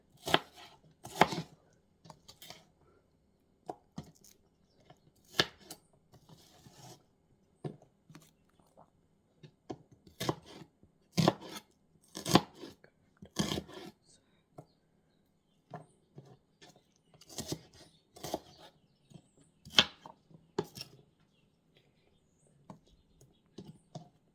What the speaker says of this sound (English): it's easier to cut the onions first